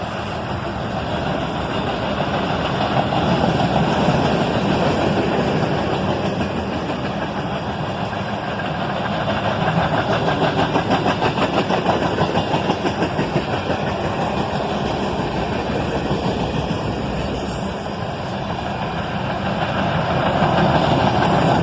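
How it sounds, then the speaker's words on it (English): A northbound freight train led by ET44AH and ES44ACH diesel locomotives makes a steady, loud rumble with an engine drone and a faint rhythmic clatter of wheels throughout, with no voices. "An ET44AH and an ES44ACH lead this northbound train under a cloudy sky."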